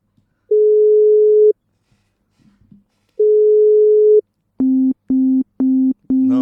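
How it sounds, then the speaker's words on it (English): A telephone line signal sounds loud and clean with no background: two long steady tones, then four short evenly spaced beeps of a busy signal in a quick regular rhythm. "Line busy."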